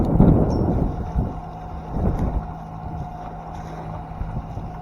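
Broadband wind and sea noise aboard a sailboat beating into 20 knots of wind at about 4 knots off the French coast near Boulogne, a steady rushing wash with gusty swells and a low hum, no talking.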